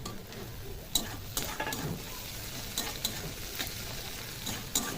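Chopped tomato frying with softened onion, ginger and garlic in a pan sizzles steadily as the mix is stirred, with occasional sharp clicks from the spatula on the pan.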